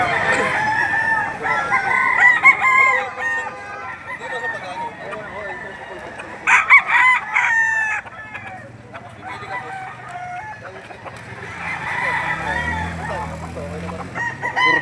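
Roosters crow repeatedly at the Lipa livestock auction market, loud nearby calls rising above a busy background of people talking and clucking fowl.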